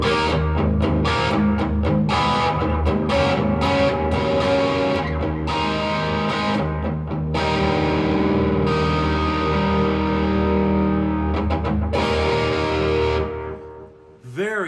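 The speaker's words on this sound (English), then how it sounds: "a standard American kind of rock distortion tone that we can sink our teeth into" Heavily distorted electric guitar through a Blackstar HT 20 Mk II tube combo amp, chugging and ringing out in a dense, saturated American rock tone, loud and continuous, with a final chord fading at the end.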